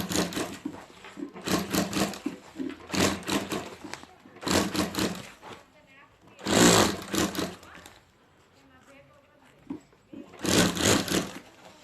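Sewing machine stitching over piping on a homemade handbag: a series of short, close stitching bursts separated by pauses, with a voice talking softly between runs.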